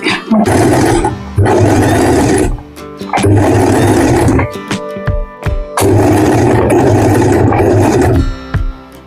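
An Usha Allure DLX sewing machine stitches a fall onto a saree in loud, close bursts of rapid whirring, three long runs separated by short pauses.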